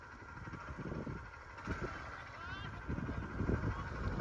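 A motorcycle engine idles at low level with a steady, uneven chug, mixed in with people talking nearby.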